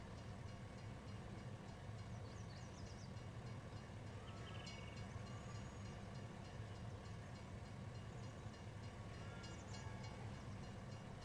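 A train rolls past on the tracks in the video game Farming Simulator 2019, a steady, continuous rumble of rail cars that holds evenly throughout with faint high squeals on top.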